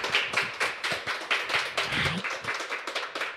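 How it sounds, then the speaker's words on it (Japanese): A modest audience at a Yokohama SDGs culture festival talk claps for a guest speaker, individual hand claps distinct and rhythmic, close and fairly light, forming a brief uneven round with a short murmur midway. "皆様大きな拍手をお願いいたします。"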